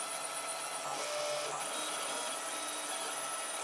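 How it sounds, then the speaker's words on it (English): A belt-drive 3D printer runs through a long print with a continuous whirring hum from its motors and a few brief clicks and chirps as the head moves, steady and close with no talking. "So it's printing quite well here."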